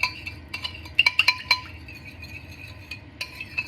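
A spoon clinks repeatedly against a bowl while a sweet and sour garlic sauce is stirred until the sugar dissolves, giving bright, irregular taps that cluster in the middle and recur near the end.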